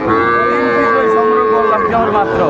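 A cow moos in one long, loud, sustained bellow lasting a couple of seconds, close by at the Ambari cattle market, with faint background noise.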